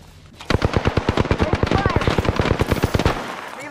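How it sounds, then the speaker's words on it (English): Rapid automatic gunfire from the Apex Legends video game, a loud, evenly spaced burst of about twenty shots over roughly two and a half seconds, close and dominant. "Getting shot at."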